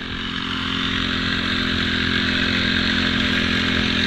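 A small engine on a homemade hoe-type machine roars steadily and loudly, its drone swelling slightly as the throttle is opened, with no talk over it.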